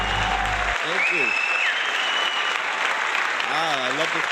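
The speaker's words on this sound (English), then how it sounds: "Give it up for Jarrell" A live studio audience claps and cheers in sustained, dense applause for a show host's entrance, loud and continuous with whoops mixed in.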